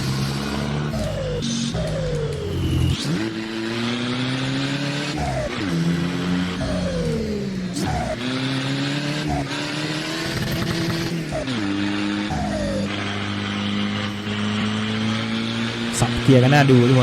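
A modified 2024 Isuzu D-Max pickup in Assetto Corsa revs hard against its limiter, a buzzing, stuttering engine tone rising and dropping through gear shifts, with someone talking over it throughout.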